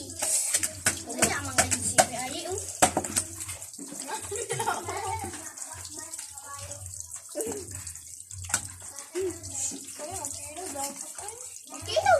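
A faucet runs water into a basin while fish is prepared, a splashing flow heard under frequent talking and clattering kitchen handling throughout.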